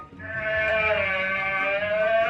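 An alpaca call is played back during a guess-the-sound game: a single sustained, nasal, harmonic cry lasting about two seconds, heard clearly with no talking over it.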